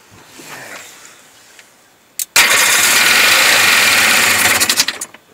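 A Sea-Doo personal watercraft engine with a 3D carburetor catches after a couple of quiet cranking attempts, then roars loudly and steadily for about three seconds before easing off, heard close by with no talking.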